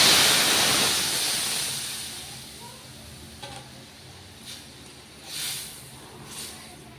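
Vegetarian lentil dal with bitter gourd, lightly sweetened, is poured into a pot with a loud, splashing hiss at first. The sound fades over a couple of seconds into quieter bubbling and a few soft clinks.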